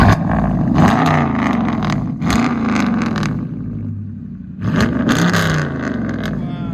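A 2018 Dodge Charger R/T with a 5.7L V8 and its X-pipe deleted revs hard in a few loud bursts, deep rasping exhaust rising and falling with a brief idle lull between, close by.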